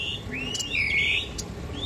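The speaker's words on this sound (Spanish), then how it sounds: "Qué genial poder escuchar los pajaritos acá." Small birds chirp and tweet near Dalcahue on Chiloé Island, Chile, with a few clear, close whistled calls and short sweeping notes over steady outdoor background noise.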